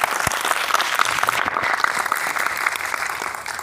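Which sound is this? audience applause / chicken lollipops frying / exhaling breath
audience applause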